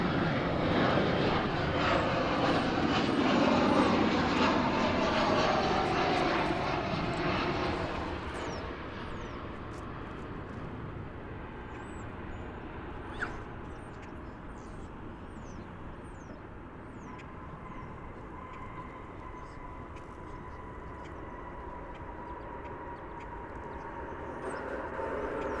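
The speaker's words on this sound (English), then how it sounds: "That was flight numero 1672. 737-800 from LAX." A Boeing 737-800 passenger jet arriving at DFW Airport from Los Angeles, its engine roar loud and broad at first, then fading into a steady distant rumble as it passes.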